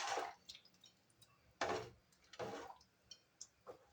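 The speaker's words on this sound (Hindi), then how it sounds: "हमारे इधर बारिश हो रही है।" Sparse, close drips and soft splashes of rain falling outside in a rural home setting, irregular single drops and short bursts against a quiet background.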